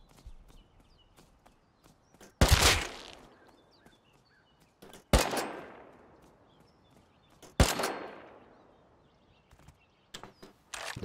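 Gunshots in the video game Rust: three loud, close single shots spaced a couple of seconds apart, each with a long decaying echo, and faint clicks and footsteps between them.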